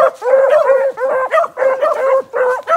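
A pack of hound dogs bays and barks in quick overlapping bursts while running together, loud and close, with yips and whimpering mixed in.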